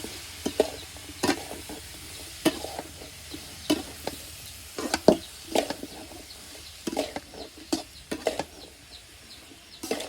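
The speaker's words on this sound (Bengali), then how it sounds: "তো দেখেন পটল চুলোয় দিয়ে দিয়েছি এখন নাড়াচাড়া করার পালা" Pointed gourd fries on a clay stove in a village kitchen while a utensil stirs it in uneven scraping bursts over a soft sizzle, with faint birds in the background.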